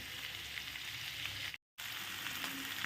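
Vegetables fry in a pan for a vetki fish preparation, giving a steady, close hiss of sizzling oil that cuts out abruptly for a moment before resuming.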